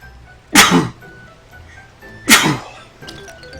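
Two loud sneezes in the video game Radiata Stories, about two seconds apart, each a sharp burst of breath, over a faint steady game background with a quiet tone.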